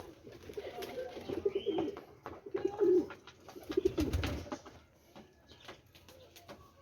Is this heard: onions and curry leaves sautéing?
no